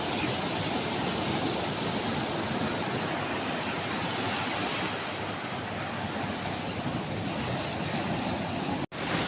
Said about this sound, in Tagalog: malakas ang alon eh